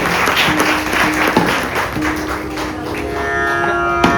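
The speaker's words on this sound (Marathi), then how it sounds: "एकदा जोरदार टाळ्या होऊन जाऊया संगीत गायनासाठी" Audience applause after a song in a Guru Vandana concert, a loud dense wash of clapping that keeps going evenly, with a few sustained musical tones drifting underneath.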